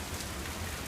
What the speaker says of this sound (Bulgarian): Дъжд заваля.